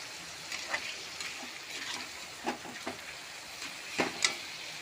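Ground spices for a Bengali red chicken curry are sautéed in a pan, giving a soft, intermittent sizzle with scattered stirring scrapes and small spatters, fairly quiet throughout.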